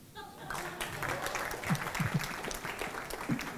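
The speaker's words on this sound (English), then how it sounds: "a round of applause for me" Audience applause for a speaker at a live talk, a steady patter of clapping from a crowd with faint voices mixed in.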